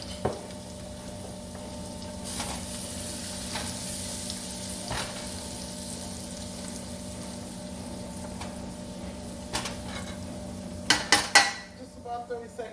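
Minced garlic with turmeric and curry powder frying in oil in a pot, a steady close sizzle with occasional stirring clinks and a few sharper pan knocks near the end.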